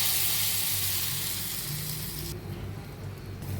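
Tempering spices, chopped onion, chili powder and asafoetida hit hot oil for a lentil and potato curry, giving a loud, steady, close sizzle that slightly softens partway through, with no one talking.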